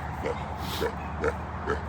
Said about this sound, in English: We got the adult pigs over here